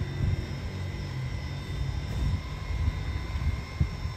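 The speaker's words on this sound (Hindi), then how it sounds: "ड्रोन जो है ना अभी चेक हो रहा है" A drone being flown and checked at an outdoor wedding event, its motor hum a steady, continuous whir that stays at a moderate level throughout.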